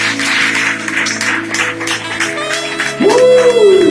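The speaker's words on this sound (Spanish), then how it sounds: "Aplauso al Señor." Church congregation clapping, a brisk spattering of hands mixed with sustained tones, then a rising voice joins near the end over the applause.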